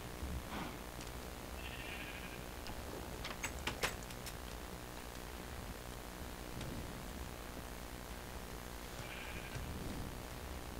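Sheep bleat faintly in a Minecraft game, with two short bleats separated by a long gap over a steady low hiss, and a few keyboard clicks in between.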